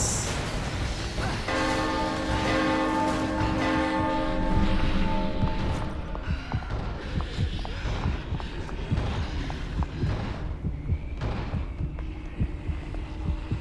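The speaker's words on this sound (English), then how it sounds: "ring the bell again" A bell rings in the survival horror video game The Evil Within, with sustained tonal strokes sounding over a dense, droning game soundscape.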